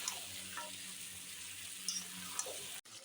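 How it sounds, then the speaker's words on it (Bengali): Chicken sautés and is stirred in a pan, giving a steady, soft frying hiss with a few light scraping clicks from the spoon before a sudden brief drop near the end. "এখন দেখো ভালো করে কষিয়ে নিচ্ছি"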